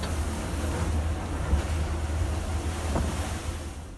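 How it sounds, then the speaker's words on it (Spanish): Fishing boats ride stormy ocean waves: a loud, continuous roar of surf and rushing water, heavy low rumble and wind buffeting, with occasional splashes rising from the churn. "Mira cómo se mueven los barcos pesqueros durante una tormenta."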